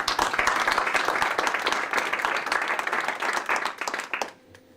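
An audience applauds Hervé Beddelem, the president, at a formal gathering: dense, steady clapping from a crowd that holds loud for about four seconds, then cuts off abruptly to near silence.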